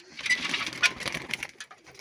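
A brief soft cooing and fluttering of pigeons close by, a short burst of bird calls with no voices.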